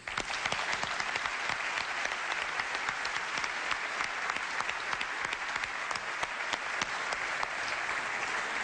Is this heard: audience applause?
yes